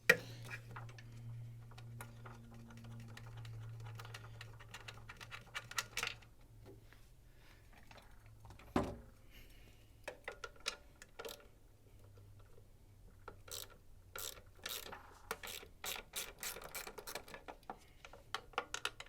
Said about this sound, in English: So I'll remove the lower. It's going to be a 10mm socket.